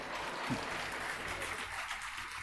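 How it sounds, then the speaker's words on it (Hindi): A classroom audience claps steadily and evenly throughout, a continuous patter of many hands heard at moderate distance with no voice on top. "अब यहां पे ताली बजाना चाहिए"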